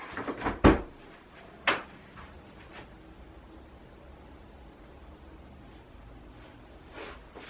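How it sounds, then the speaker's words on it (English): A door clunks open with a couple of short knocks and rattles early on, followed by quiet room hiss and a faint later bump. "Maybe I'll open my door."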